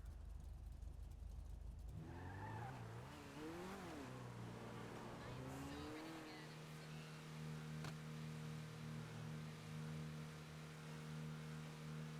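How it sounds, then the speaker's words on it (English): A car engine in Grand Theft Auto V revs up and down through rising and falling pitches, then holds a steady drone over a low background hum. "I wasn't expecting to hear him in his car, though."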